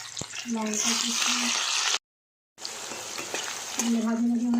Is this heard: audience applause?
no